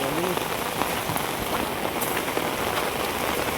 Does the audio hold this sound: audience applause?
no